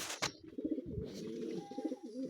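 Black Sirazi pigeons, a breeding pair, coo close by in a steady series of soft low throaty calls, with a brief rustle or flutter near the start.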